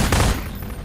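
Automatic rifle fire at antlions in Half-Life 2, a short loud burst of rapid shots up close that quickly fades into a ringing tail.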